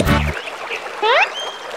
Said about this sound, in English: Suddenly, a hoarse quack comes from below Mama Duck.